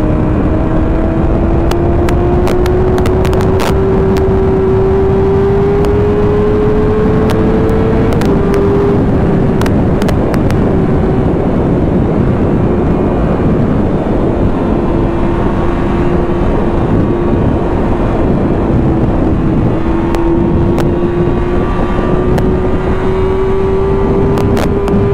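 A 2009 Yamaha YZF-R6 motorcycle at high revs on a race track. Its loud, steady engine drone climbs slowly in pitch and continues without a break, with no talking.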